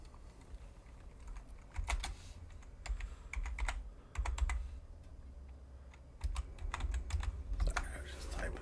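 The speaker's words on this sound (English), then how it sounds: "Sorry, I was just typing something." Bursts of keyboard typing during a Farming Simulator 25 play session, clusters of sharp key clicks coming in several quick runs over a steady low hum, close and moderately loud, with no talk.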